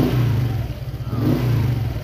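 A Honda Click 125 scooter engine revs up under throttle, a steady, loud mid-pitched drone that swells and eases in two close pulses.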